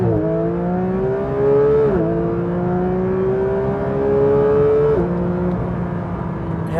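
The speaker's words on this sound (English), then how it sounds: "Here we are then, 992 GT3, and we are performing a launch control." A Porsche 992 GT3 performs a launch-control start, its engine note climbing loud and strong through two quick gear changes with no talking.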